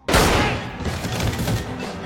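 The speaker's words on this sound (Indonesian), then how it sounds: "Saat lift terbuka, Weller melepaskan tembakan" Gunfire erupts in a film action scene as a lift door opens: a loud, close burst of rapid shots and booms that fades into a rumbling echo, with no talking.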